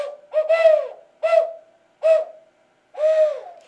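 Small owl-shaped toy whistle from a children's percussion line, blown in four separate hoots, each a steady wavering tone with a slight downward bend, spaced by short silences, close and fairly loud with no talking.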